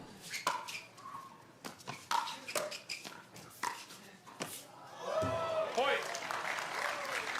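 Crowd at a championship pickleball match cheering and applauding, building into a sustained roar after a string of sharp claps, paddle pops and commentary voices.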